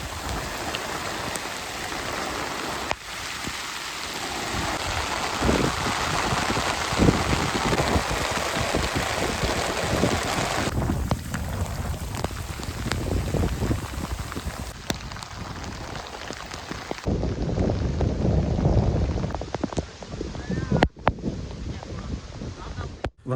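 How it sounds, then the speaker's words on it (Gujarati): Heavy rain pours over a forest campsite, a loud, dense patter that swells and shifts, with gusts of wind buffeting the microphone and faint voices underneath. "બધે વરસાદ આવે છે"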